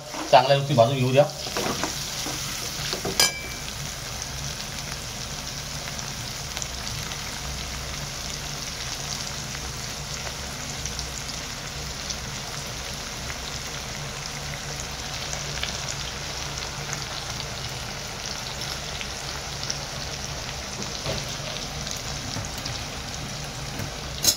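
Paneer and mushrooms fry in oil with a loud, continuous sizzle that holds steady throughout, after a brief burst of clattering and stirring at the start.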